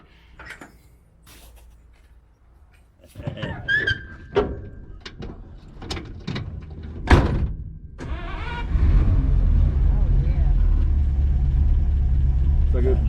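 A 1953 Buick, revived after more than 30 years abandoned: a few clunks and knocks come first, then the engine catches and settles into a smooth, steady running hum close by, with people talking over it.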